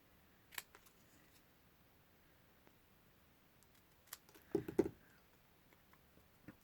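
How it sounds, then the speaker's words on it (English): Scissors trimming the edges off a patterned paper card panel, a few faint, close snips spaced out over quiet background, with a brief cluster of louder cutting and handling noise near the end. "So we'll just cut these edges off."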